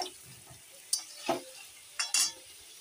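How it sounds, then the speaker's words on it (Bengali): Lentil paste fritters fry in oil with a quiet sizzle and several short bursts of stirring and scraping, spaced out over a few seconds, with no voices. "এগুলো ভাজা ভাজা হোক"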